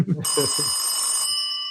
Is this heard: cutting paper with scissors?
no